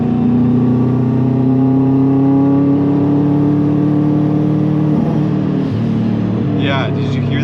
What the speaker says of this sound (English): did you hear that boost cut?